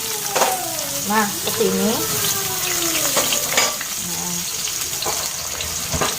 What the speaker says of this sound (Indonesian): saya tumis dulu bawang bombaynya sampai wangi ya